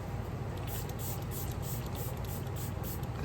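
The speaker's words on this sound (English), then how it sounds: "Then take a good setting spray" Makeup setting spray mists out in a soft, continuous hiss lasting a few seconds, close and fairly quiet, with no voices.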